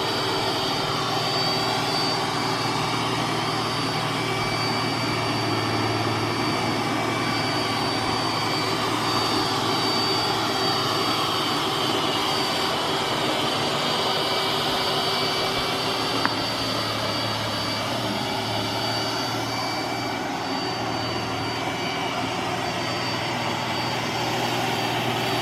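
An iRobot Roomba s9+ robot vacuum runs on carpet with a steady, loud whirring motor drone and a faint high whine, holding nearly constant throughout with one brief click partway.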